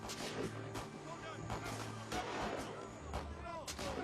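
Gunfire crackles through a chaotic outdoor scene, several sharp reports scattered across a few seconds amid a steady rumble, with shouting voices mixed in throughout.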